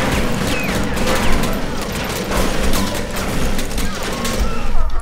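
Dense game gunfire in TimeShift, a near-continuous fusillade of shots and impacts over five seconds, with a player's voice talking underneath.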